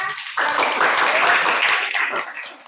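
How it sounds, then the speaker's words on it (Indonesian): A classroom group claps after a presentation, the applause starting abruptly after a short pause, holding as a close, bright wash of clapping for about a second and a half, then thinning and fading out. "Oke, tepuk tangan untuk kita semua."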